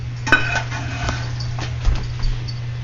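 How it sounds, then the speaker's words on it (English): Meat goes into a casserole dish for a La Bamba casserole, with light clinks and scrapes of cookware and utensils and a few sharper knocks over a steady low kitchen hum. "Little sound effects for the boring putting the meat in the casserole dish."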